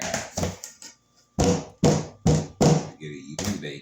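Cake pans filled with blackberry batter are rapped on a counter several times to knock out air bubbles, giving four sharp, close thuds in quick succession after an earlier pair of taps and some brief talk.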